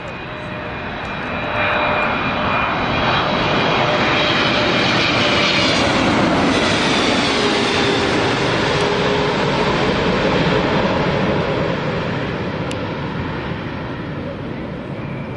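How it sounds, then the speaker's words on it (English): Emirates jet airliner at Newcastle Airport, a loud sustained roar that swells as it passes and then slowly fades, with broad rushing noise and whining engine tones throughout. "Right, here comes the Emirates."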